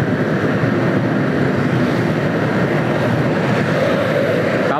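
Strong, continuous wind roars against the microphone while a small group cycles back into a headwind, a dense, unbroken rush with no pauses or talk.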